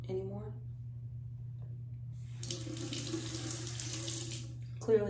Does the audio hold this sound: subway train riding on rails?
no